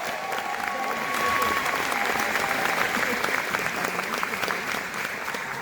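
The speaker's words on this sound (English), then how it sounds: "Scott got a louder round of applause than I did" Loud, sustained applause from a crowd at a Washington initiative signing event, dense clapping holding steady throughout with no talk over it.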